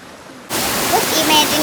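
Stream water rushing on a hiking trail near Dhampus, Nepal, bursting in loud and close after a quieter moment and continuing as a steady roar.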